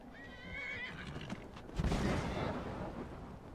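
A horse in the video game Skyrim whinnies with a shrill, wavering call, followed by a heavy thud and rumbling noise, fairly close and loud.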